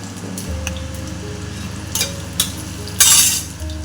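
Bay leaf, cumin and garam masala fry in a pan with a soft, steady sizzle under a low hum, broken by a few clinks of a utensil against the pan, with one sharper clatter near the end.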